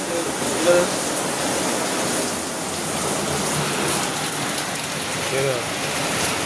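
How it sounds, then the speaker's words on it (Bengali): Heavy rain pours outside a doorway as a dense, constant hiss, steady and fairly close, with faint voices at the edges. "ভয়ঙ্কর গতিতে বৃষ্টি হচ্ছে"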